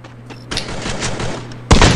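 Gunfire rings out in a shooting video game, a sharp burst of rapid shots followed by a loud single blast near the end, heavy and close.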